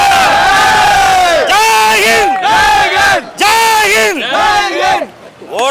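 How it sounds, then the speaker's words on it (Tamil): A packed crowd at Rohini theatre for an Indian 2 screening roars and chants in loud, sustained waves of cheering and shouting voices, close and overwhelming throughout. "இந்த கைத்தட்டல் அனைத்தும் உலக நாயகன் அவர்களுக்கே போய்"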